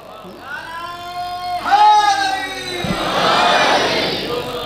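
Crowd at a Muharram majlis in Haider Shah Wala, Layyah, raising a loud chanted religious slogan in unison, swelling into a broad collective roar after a preceding voice.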